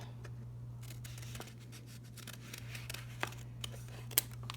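Scissors cut a paper frog puppet shape in a series of quiet, close snips at an uneven pace, with one sharper clip near the end.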